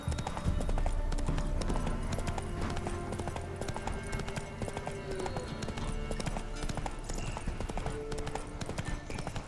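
Hooves of Roach, a horse in The Witcher 3, clatter in a fast, steady galloping rhythm, close and continuous, with a low rumble beneath and occasional faint background sounds.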